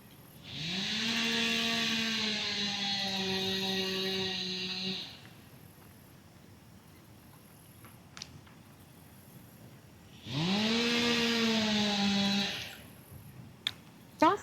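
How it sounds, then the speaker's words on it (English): A chainsaw clearing fallen deadfall on wooded trails runs in two sustained bursts of several seconds each, revving up and holding a steady drone, separated by quieter gaps with faint background noise. "guys will have to excuse the chainsaw noise"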